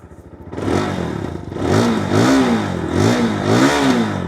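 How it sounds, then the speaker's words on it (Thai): A 2022 GPX Demon GR200R 4V motorcycle with its stock exhaust cranks briefly, fires up loud and close, then settles into a steady idle punctuated by four rhythmic throttle blips. "เดี๋ยวเรามาฟังเสียงท่อเดิมกันหน่อยดีกว่านะฮะ สตาร์ทง่ายๆเลยครับผม"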